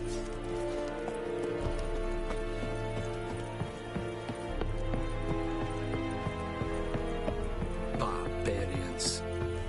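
Roach, the horse in The Witcher 3, makes rhythmic hoof clip-clops over a constant low game soundscape, with a few brighter rustles and effects near the end.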